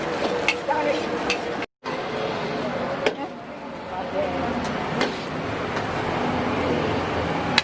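Food sizzles steadily in a pan with stirring scrapes, set against a busy street with traffic noise, while people chat nearby throughout.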